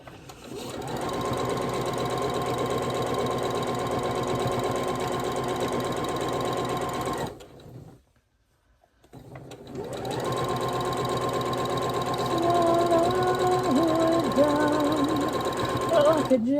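A sewing machine stitching quilt fabric for a gnome block: a fast, steady mechanical whirring run that stops for about two seconds and then starts again, close and fairly loud.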